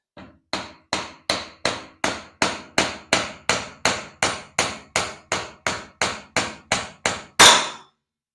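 Sharp hammer blows drive a wooden peg through a 5/16-inch hole in a dowel plate, about seventeen evenly spaced strikes at a brisk, steady rhythm, ending with one louder blow, close and without speech.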